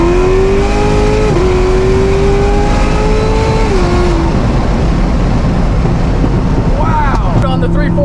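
A 1,200hp Corvette ZR1 on R888 tires pulls hard under full throttle, engine note climbing loudly before dropping at a gear shift and rising again, very loud inside the cabin with wind and road roar.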